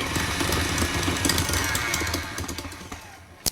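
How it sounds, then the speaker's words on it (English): A tilt-head stand mixer creams unsalted butter in its bowl, a steady loud motor whir with a rough, rattling beater churn that holds continuously, then eases off near the end before a brief knock. "Always make sure to lock the machine, and then we're going to cream the butter."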